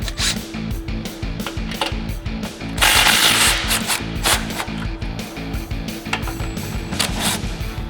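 Rapid repetitive ratcheting clicks from a 15mm socket loosening exhaust clamps on a Jeep Wrangler, with a louder rattling burst midway and a steady low hum underneath.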